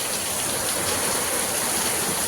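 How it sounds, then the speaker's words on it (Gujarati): Heavy storm rain pours down in a steady, loud, dense hiss that fills the whole stretch without a break. "ફૂલ વાવાઝોડું વરસાદ ચાલુ થઈ ગયું"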